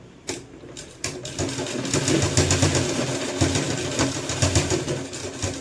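A sewing machine stitches a sleeveless kurti, starting with a couple of short bursts and then running in a steady, close whirring rattle with no talking.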